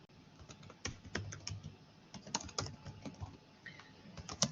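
Computer keyboard typing while entering text into a SolidWorks drawing title block for a pin and step assembly; quick irregular clicking keystrokes, close and moderately quiet, with no talking.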